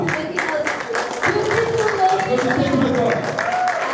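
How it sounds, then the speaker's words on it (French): An awards-ceremony crowd at a web festival gives a sustained round of clapping with some cheering, music or voices running beneath it throughout. "Je vous prie d'applaudir très fort pour l'artiste international Loïc Afana"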